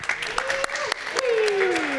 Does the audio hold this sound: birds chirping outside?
no